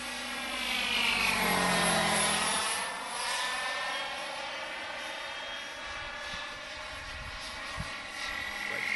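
An RC helicopter with a turbine engine running, a loud high whine with whooshing rotor sweep that settles into a steady, sustained drone.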